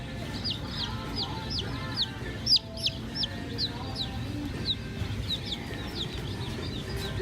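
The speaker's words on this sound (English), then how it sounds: "Do you like the chicken? A baby chicken." A baby chick peeps in a rapid series of high, thin chirps, steady and close, with faint background noise and no talk over it.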